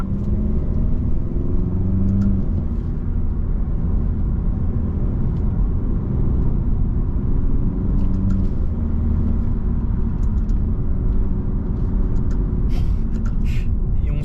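An Alfa Romeo Giulia Veloce engine hums steadily from inside the cabin, a low continuous rumble with slight shifts in pitch as the car drives along.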